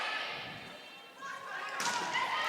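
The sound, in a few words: volleyball being hit during a match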